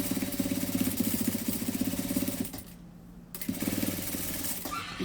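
A sewing machine topstitches a fabric hem, running in a steady rapid mechanical chatter, pausing briefly midway before resuming at close range.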